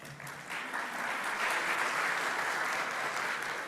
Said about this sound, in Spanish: recibimos con un fuerte aplauso al ingeniero José Gaya